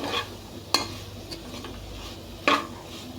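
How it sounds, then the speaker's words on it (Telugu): Beans being stirred with salt in a pan: a faint sizzle runs underneath while a utensil clinks sharply against the pan twice, with softer scraping between the knocks and no voices. "సాల్ట్ మీ రుచికి సరిపడంత కొంచెం సాల్ట్ వేసుకొని బాగా కలుపుకోవాలండి"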